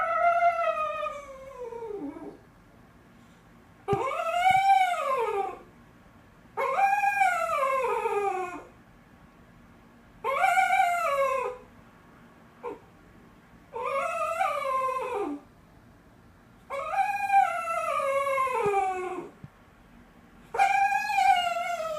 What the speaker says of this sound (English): I faked leaving the house and then I recorded her whining.